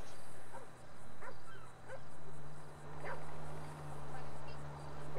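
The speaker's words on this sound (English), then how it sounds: "I hear a dog. I really hope it's not a fucking canine unit." Faint, far-off dog barks ring out a few times in a GTA role-play game, spaced irregularly over a low steady hum and outdoor ambience.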